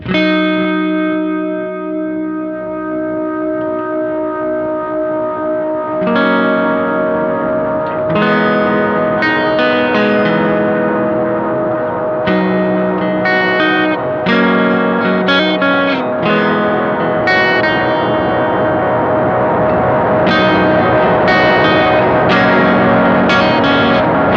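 Guitar through a Bleak District Electric Tapescape tape echo pedal with feedback raised toward self-oscillation, sustained distorted tones layered with repeating echoes that build and smear into a dense, loud wash with no voices.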